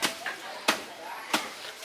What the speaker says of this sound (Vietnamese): giờ đi chặt cái chuối vô trộn gỏi gà